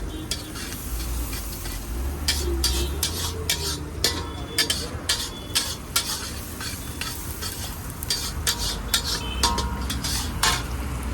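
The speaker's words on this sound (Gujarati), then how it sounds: "હવે એને ધીરા તાપેથી ડુંગળીને પ્રોપર રીતે સાતડી લેશું" Onions and tomatoes sautéing over low heat in a pan for moong pulao, with a loud continuous sizzle under rapid, repeated scraping and clinking of a utensil against the pan.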